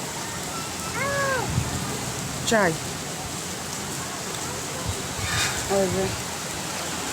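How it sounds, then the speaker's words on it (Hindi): Heavy monsoon rain pours down in a steady, dense hiss that runs through the whole stretch, while a cat meows a few times and a person briefly speaks over the downpour. "बहुत अच्छी सी बारिश हो गई, ज़ोरों वाली, झमाझम वाली, मतलब बहुत ज़बरदस्त बारिश हो रही है।"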